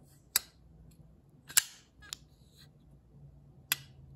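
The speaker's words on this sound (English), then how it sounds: "I especially like the sound of this knife and its deployment" Four sharp metallic clicks and snaps from a Kubey KU074 folding knife blade deploying, crisp and close, spaced irregularly with quiet between them.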